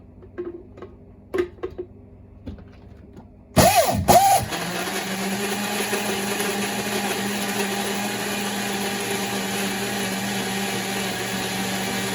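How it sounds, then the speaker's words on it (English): After a few faint clicks and taps, a blender starts with a sharp burst and settles into a loud, steady motor whir, blending an avocado hair mask mixed with oil, running continuously to the end. "You can see right there, I gotta blend it more."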